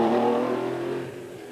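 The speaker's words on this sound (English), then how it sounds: "McRae's Porsche bottoms out on many of the bumps on the gap" A Porsche rally car on a stage of the 2003 Killarney Historics Rally gives a brief engine note that fades quickly from moderately loud toward distant.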